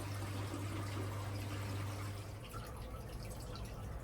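Steady rushing and trickling of water draining from a cherry shrimp aquarium during an automatic water change, continuous and close, with a low hum underneath.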